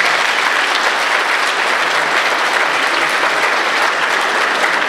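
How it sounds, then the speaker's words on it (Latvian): Loud, dense audience applause at a concert in Dobele, a steady wash of clapping from a large crowd that holds without a break and has no speech over it. "Aplaus viņiem!"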